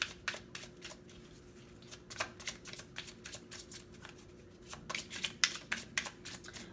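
A tarot deck is shuffled in quick, soft riffling bursts, with cards flicked and drawn from it, a close and quiet papery patter that grows busier toward the end.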